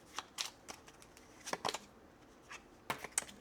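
Quiet, scattered bursts of tarot card shuffling: brief papery riffles and flicks, separated by short pauses.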